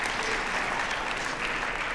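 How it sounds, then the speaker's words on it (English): A dense, even round of applause from the audience at a songwriting critique session, loud and continuous for about two seconds with no talk over it. "let's have a nice round of applause for these guys"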